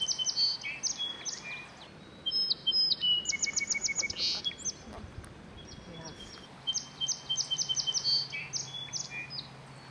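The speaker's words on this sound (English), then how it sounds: "in Minnesota, the white-throated sparrow sings, "Old Sven Peterson, Peterson, Peterson."" A white-throated sparrow sings in a Minnesota bog in summer, giving several clear, high whistled phrases in repeated bursts that are fairly faint over quiet background hiss.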